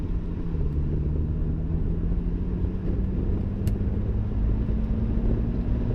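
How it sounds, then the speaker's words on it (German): A car pulls out of a roundabout in Eco Pro mode and accelerates, its exhaust giving a steady, moderately loud drone with a slowly rising engine note and no speech. "jetzt gebe ich mal ein bisschen mehr Gas"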